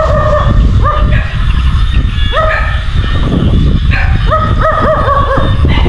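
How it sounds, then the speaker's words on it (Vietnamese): Several dogs bark and yelp in short, high bursts near a fishing spot, some close and loud, over a constant noisy background. "Khu vực này toàn chó quá trời,"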